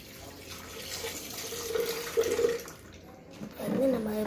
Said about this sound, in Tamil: இப்போ பால் ஊற்றிக்கலாம்.